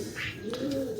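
An injured pigeon with a hurt leg gives a soft, close coo, a brief low rising-falling call over faint background noise.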